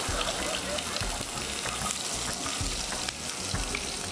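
Mustard seeds pop and sputter in hot oil on a TV cooking show set, a dense crackling hiss mixed with water-like noise and background murmur of voices.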